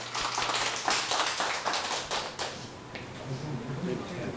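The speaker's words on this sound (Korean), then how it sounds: "함께 박수 부탁드리겠습니다" A short burst of applause from a small group at a neighborhood safety-map presentation, several people clapping for about two seconds before it fades into quiet room noise.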